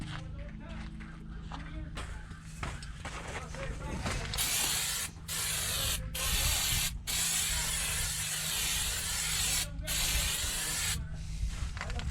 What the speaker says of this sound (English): I'm going to clean this up with brake cleaner on the rotor just to make sure it's all clean.